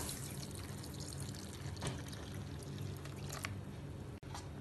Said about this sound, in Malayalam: ഇനി ഇതിലേക്ക് റെഡിയാക്കി വെച്ച ബദാം മിൽക്ക് ഒഴിച്ചു കൊടുക്കാം.